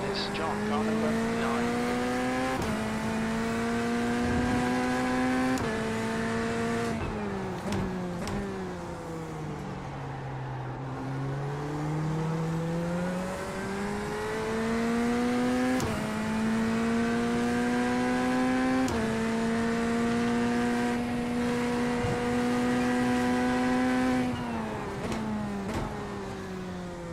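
Sim racing game race car engine droning loudly, pitch climbing and dropping through repeated gear changes and braking, other cars faintly nearby, with someone talking intermittently over it.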